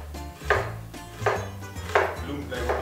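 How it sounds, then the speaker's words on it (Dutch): A knife chops vegetables for pizza on a cutting board, four firm, evenly spaced strokes about half a second apart, close and clear with no talking. "ik ga vast de groenten snijden voor de pizza"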